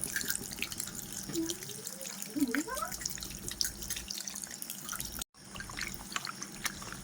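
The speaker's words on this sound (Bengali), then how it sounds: "মাংসটা ভালো করে ধুয়ে নিচ্ছে এখন" Meat being rinsed under a running tap in a rural Sundarbans kitchen, a steady broadband wash of water with brief splashing and trickling, heard fairly close with a few quiet vocal sounds around it.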